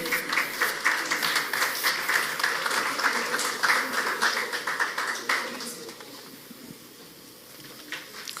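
Audience applause fills a forum hall in welcome of an engineer moderator, dense steady clapping from many hands that tapers off and thins toward the end, with no talk over it.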